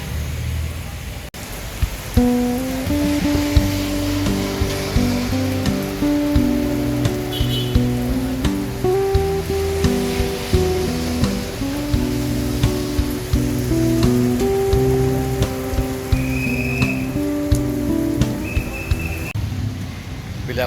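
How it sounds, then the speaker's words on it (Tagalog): A sudden downpour makes a steady, loud hiss throughout, mixed with sustained droning tones in the background. "Dito muna ako guys na may gilid kasi umulan bigla"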